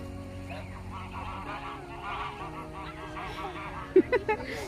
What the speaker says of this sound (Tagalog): Ayun yung tatlong bibi. Sila yung maingay.